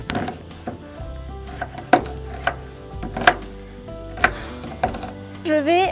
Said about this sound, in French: Alors on commence par couper Ouais. les oignons. وي On fait des petites lamelles.